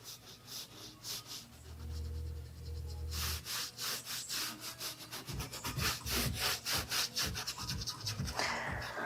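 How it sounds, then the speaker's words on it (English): Dry paintbrush pushed and blended across canvas in a landscape painting, a series of close, rhythmic scratchy rubbing strokes that speed up toward the end, with no voices. "I push my brush and blend it, push and blend it."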